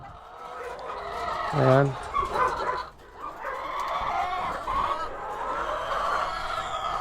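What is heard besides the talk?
chickens clucking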